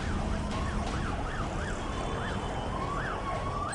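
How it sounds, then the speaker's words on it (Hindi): An air-raid siren in Beirut, Lebanon, at night wails steadily over constant traffic rumble, its pitch rising and falling in a regular cycle, with a second tone holding underneath. "सन्नाटे को चीरती सायरन की डरावनी आवाज"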